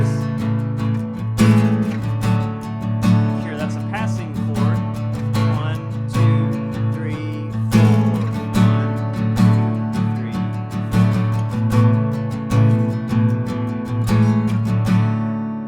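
Strummed acoustic guitar chords, a C shape over G in the bass, repeat in a steady rhythm, ringing and close, with regular strokes across the strings.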